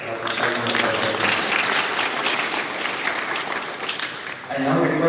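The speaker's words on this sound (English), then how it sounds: "A huge round of applause for Dr. Vishal Kumar Gupta, sir." Audience applause fills a PharmD graduation ceremony hall at JSS College of Pharmacy, Ooty: a dense, steady wash of clapping from many hands, loud and sustained throughout.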